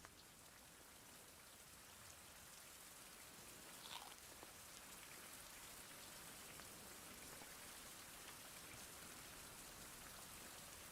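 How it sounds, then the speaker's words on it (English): Rain falls in a survival video game, a soft, steady hiss of drops on surfaces that continues evenly throughout at a distance, with no voices. "Oh, it's raining."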